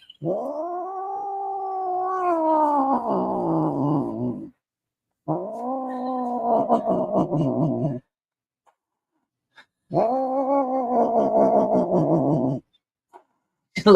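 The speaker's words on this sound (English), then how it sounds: "Look up cat yodeling here on YouTube." A heavy domestic cat caterwauls while being held, letting out three long, loud, wavering yowls separated by short silences, close to the microphone.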